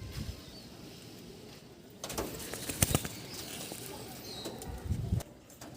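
An elderly pigeon of an old breed, slightly paralysed, flutters and coos in a noisy room, with scattered wing flaps and rustling bursts over a steady hiss.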